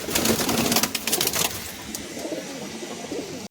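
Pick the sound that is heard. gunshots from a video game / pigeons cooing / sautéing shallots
pigeons cooing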